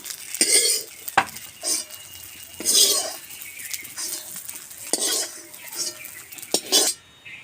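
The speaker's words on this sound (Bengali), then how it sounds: "সোয়াবিন ভেজে নিয়েছি লাল লাল করে তুলে নিই" Deep-fried soybean chunks are lifted out of a pan of oil, bringing repeated close metallic scrapes and clinks of a utensil against the pan over a faint sizzle, with no voices.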